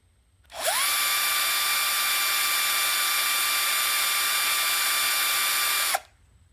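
A power drill bores a pilot hole into a post for a DIY light bar mount, spinning up sharply, holding a loud, steady high whine for about five seconds, then cutting off abruptly.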